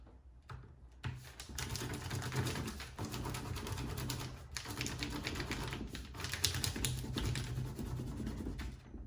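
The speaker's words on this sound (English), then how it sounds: "take my white crayon and I'm just going to rub pretty vigorously all over" A white crayon is scrubbed hard and steadily over paper laid on top of leaves, giving a dense, continuous scratchy rasp with brief pauses between strokes and no talking.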